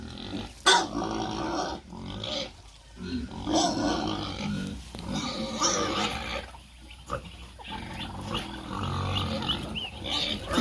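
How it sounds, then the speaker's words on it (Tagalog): Hungry pigs on a rural provincial farm squealing and grunting loudly in repeated bursts, close and chaotic, with brief gaps between outcries. "Mga baboy gutom na rin."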